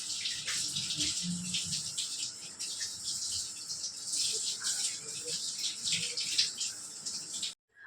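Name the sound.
washing potatoes under running water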